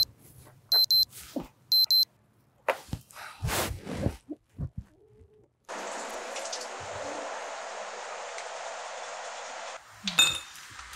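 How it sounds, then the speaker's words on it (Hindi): An alarm clock rings in two short electronic bursts near the start, then clinking and shuffling sounds follow, with a steady broadband hiss later on. "यार ये अलार्म तो बंद कर दिया करो ना,"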